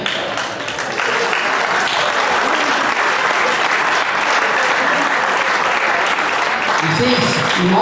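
A large crowd gives steady, dense applause for the medal recipients at the 2010 Danish championship doubles prize ceremony. The clapping is loud and sustained, swelling slightly after the first second and holding on to the end.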